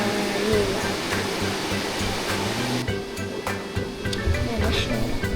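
A river at Camp Payapa rushes steadily and close by, a dense, even hiss that sounds much like falling rain, continuing without a break throughout.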